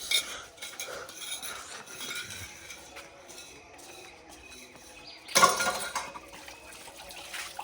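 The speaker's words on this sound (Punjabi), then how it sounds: "ਆਪਾਂ ਹੁਣ ਹੱਥ ਧੋ ਲਾਣੇ ਆਂਗੇ" Running water splashes over hands at a sink in a Punjabi household, a steady wet wash with faint clinks, then a louder, brighter gush near the end. Nobody talks.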